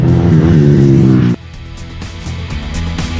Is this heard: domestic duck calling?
no